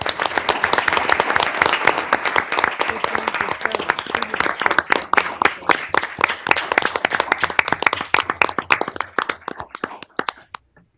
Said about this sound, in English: Can we just pause to give them a round of applause?